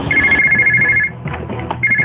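A mobile phone ringtone in a Hindi film scene, a repeating electronic trill that plays, pauses briefly and resumes, fairly loud over some faint background sound.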